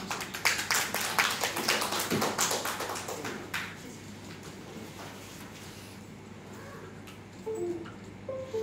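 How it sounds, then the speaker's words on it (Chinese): Audience at an academic lecture welcoming a professor with applause, a burst of many hands clapping for about four seconds that fades out, followed by quiet room tone with faint taps and chirps. "那我们掌声有请徐教授"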